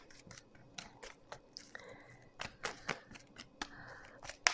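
Tarot cards being drawn and laid out on a table, a series of sharp papery snaps and soft slides spaced irregularly, close and quiet with no voices.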